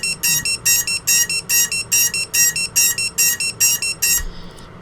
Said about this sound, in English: So I'm going to flip that on right now, which is actually going to turn that buzzer on too.